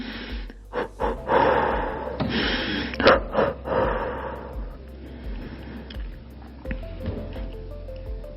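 Close, heavy breathing during a yoga exercise with a ball, sharp inhales and exhales in an uneven rhythm, fading to quieter breaths and faint background hum.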